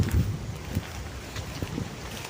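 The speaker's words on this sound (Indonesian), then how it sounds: "Angin kencang banget guys" Strong outdoor wind buffets the microphone in loud low rumbling gusts with a steady hiss, at a bird-trapping spot set with sticky lime.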